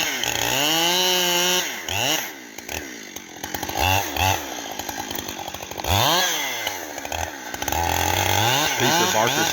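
A chainsaw runs loud and close while felling trees, its engine rising and falling through repeated revs, with cutting strain between the bursts.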